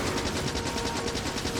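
Rapid automatic gunfire from a gun turret in the factory-building game Factorio, a steady rattling stream of shots that runs on without a break, heard close and alone.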